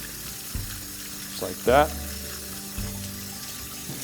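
Tap water runs steadily in a kitchen sink as vegetables are rinsed for a green chile chicken soup, with a brief louder splash partway through and a person talking over it.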